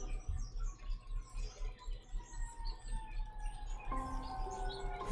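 Birds chirping outdoors on a loud day, with repeated thin tweets and calls over a low background hum, with a brighter burst of song near the end and no talk.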